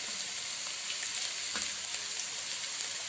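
Chopped onions soften in a pan of hot oil with a constant, even sizzle close by, soft and hissing like light rain, without any talk.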